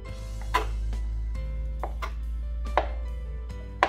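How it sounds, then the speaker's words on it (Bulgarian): A knife chops homemade Bulgarian potatoes on a board for Russian salad, giving a handful of sharp, close, irregularly spaced cuts over a low steady hum. "нарязваме и прибавяме и картофките"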